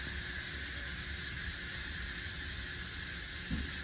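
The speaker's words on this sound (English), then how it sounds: "It takes a minute for it to quick release, because there is a lot of pressure built up in there." Steam hisses out of a pressure cooker on quick release, a loud, steady, unbroken rush of high hiss that fills the whole moment with no pause and no talking.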